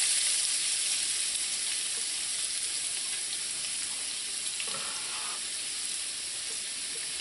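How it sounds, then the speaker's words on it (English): Chopped onions fry in hot oil with a constant close, even sizzle that holds steady throughout. "once your oil is nice and hot, you want to add your chopped onions"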